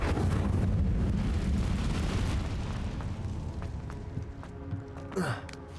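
An Incendio fire spell cast in the Hogwarts Legacy video game bursts into a roaring, whooshing rush of flame that fades over several seconds, ending in a brief rising magical chime.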